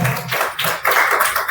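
An audience claps to welcome a guest at a motivational speech gathering in Saidpur. The applause is loud, steady and continuous, and some voices mix into it.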